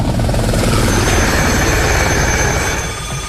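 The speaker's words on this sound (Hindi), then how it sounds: "हेलीकॉप्टर सुबह से ही ग्लेशियर पर उड़ान भरते रहे हैं।" An Indian Army helicopter's rotor thumps rapidly and loudly overhead near a glacier base camp, a steady chopping pulse with engine whine, easing slightly toward the end.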